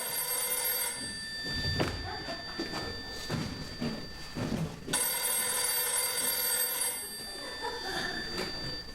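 An old-fashioned telephone rings loudly on a stage during a fifties-themed musical performance, with two long bell bursts separated by a pause and some muffled stage noise in between.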